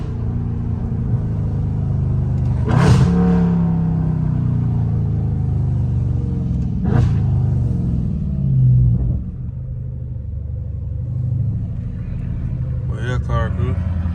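A loud Dodge Charger Scat Pack rumbling through a rich neighborhood, its deep exhaust burbling steadily up close with a few short rev swells, while people talk over it.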